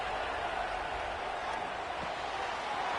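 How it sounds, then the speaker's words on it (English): A college football stadium crowd roars in a steady, dense wash of cheering and noise, urging the defense on for a red zone stop. "And here comes the noise. This crowd is trying to inspire this defense to make a big red zone stop."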